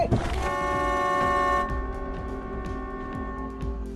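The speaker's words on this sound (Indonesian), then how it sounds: "suara klakson truk itu tadi telah menarik perhatian para zombie" A truck horn blares in a zombie-film scene, one long sustained, loud tonal honk with rich harmonics that cuts off partway, followed by a lower lingering drone and rumbling background effects.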